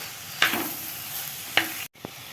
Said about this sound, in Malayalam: ഇനി നമുക്ക് ബീട്രൂട്ട് ഇടാം, നന്നായി മിക്സ് ചെയ്ത് കൊടുക്കാം.